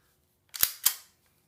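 A CAA Roni conversion kit built on a KWA M226 airsoft pistol fires two sharp, close shots in quick succession, each a crisp snap with a short tail, against near silence.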